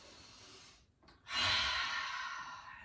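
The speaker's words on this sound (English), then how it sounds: "take a big breath in and out" One deep breath in and out while kneeling on a yoga mat: a soft inhale followed by a longer, breathy exhale, close and quiet, with no talking.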